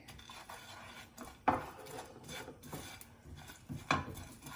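Chicken being mixed with red chilli, garam masala, turmeric and salt for a Balochi tikka karahi, giving soft rubbing and scraping with two sharper clinks of a utensil against the bowl, close and alone.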